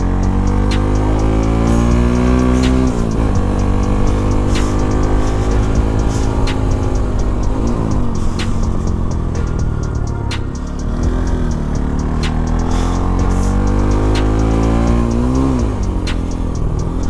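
A modified Bajaj NS 200 motorcycle screams at high speed. The close, loud engine note repeatedly rises and falls as gears change, with a steady rhythmic ticking running underneath.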